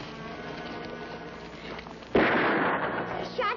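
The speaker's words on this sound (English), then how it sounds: "Shot Danny." A single sharp gunshot cracks out partway through, loud and close, breaking over a quiet outdoor background and ringing off briefly afterward.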